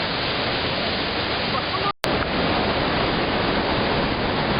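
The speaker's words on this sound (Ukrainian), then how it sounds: "Ось бурлить річка Серет." Seret river rushing and churning past an old hydroelectric power station, a steady loud broadband roar of turbulent water that fills the whole clip, with one very brief dropout midway.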